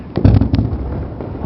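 Fireworks and firecrackers burst at a New Year's celebration in Guarujá, São Paulo, with a loud cluster of sharp pops followed by crackling rumble, with voices nearby.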